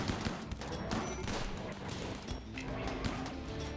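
Rimworld gunfire crackles in rapid, irregular bursts of overlapping shots, a dense battle volley at moderate loudness that runs throughout with no clear pause.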